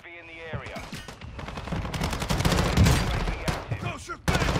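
Enemy gunfire in Call of Duty on the Ashika map crackles in dense, rapid bursts of close shots, rising in intensity midway, with a game voice heard briefly at the start.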